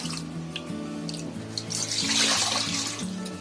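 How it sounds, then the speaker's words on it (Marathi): Water runs steadily from a tap into a cooking pot for rice flour dough, the pitch of the splashing shifting as the vessel fills. "आता 3 डबे मी पाणी घेतलं"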